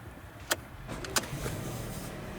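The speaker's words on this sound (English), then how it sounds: "The vehicle starts right away." A Volvo V60 starts with its dead-battery smart key placed in the cup holder: two sharp clicks come first, then the engine cranks and settles into a steady, moderately quiet idle. No one speaks.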